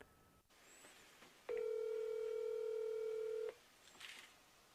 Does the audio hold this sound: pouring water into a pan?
no